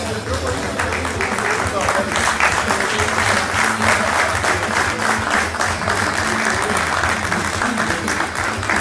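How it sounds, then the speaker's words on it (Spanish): A crowd at a rock anniversary celebration in Villa Ángela claps loudly and steadily throughout, a thick wash of hands with voices and shouts blended underneath. "Fuerte, fuerte el aplauso para el Fede."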